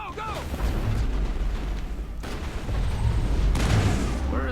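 Gunfire and heavy explosive booms in the video game Mass Effect, a dense continuous barrage of shots and blasts with speech mixed in.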